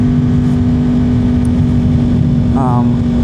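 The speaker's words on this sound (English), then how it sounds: "This is an SC Project exhaust, and I believe it is tuned. Very, very loud bike." A 2021 Yamaha R1 motorcycle with a tuned SC Project exhaust idles with a loud, steady, throaty drone, close by, while a person talks briefly over it.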